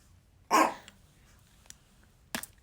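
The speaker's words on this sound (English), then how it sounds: "We're going to get a lot of barking." A neighbor's dog on the street gives one sharp bark, followed later by a second shorter one, both fairly distant and faint against a quiet background.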